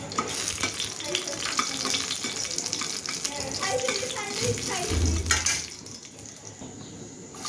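Dry red chilies fry in a little hot oil in a heated pan, giving a continuous crackling sizzle with stirring scrapes that fades near the end.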